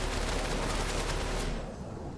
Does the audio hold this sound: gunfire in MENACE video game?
yes